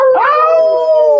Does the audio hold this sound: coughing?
no